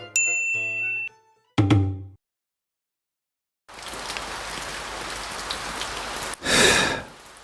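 Outdoor rain sets in after a few bright chime tones and a silent pause, becoming a steady, dense hiss of drops that swells louder briefly toward the end.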